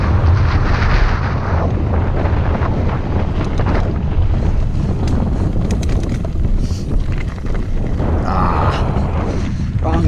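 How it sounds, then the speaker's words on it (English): Strong wind buffeting the microphone while mountain biking on Pleasanton Ridge trails, a loud continuous roar with low rumbling gusts that never lets up. "Really windy, holy smokes."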